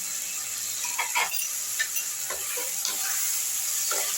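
Soya chilli with dark soy sauce sizzles on a low flame in a pan as a spatula stirs it in slow, regular strokes, a close, even frying hiss with no talking.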